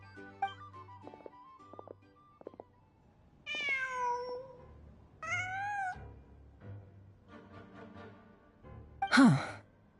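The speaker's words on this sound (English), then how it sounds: "Just a cat." A cat in the Genshin Impact video game meows several times, with clear rising and falling calls spaced apart over quiet background tones, ending with a breathy sigh-like sound.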